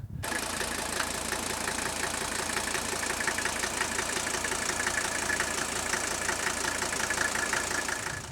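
An old turbo diesel engine with around 150,000 miles idles steadily, its knocking clatter continuous, loud and close throughout. No one speaks.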